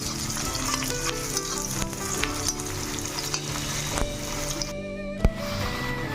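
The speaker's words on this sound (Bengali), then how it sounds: "অল্প তেল গরম হলে পেঁয়াজগুলোকে ঢেলে দিয়ে একটু লালচে করে ভেজে নেব" Onions fry in a little hot oil in a wok, giving a loud, continuous sizzle with occasional stirring scrapes and a sharp clack near the end.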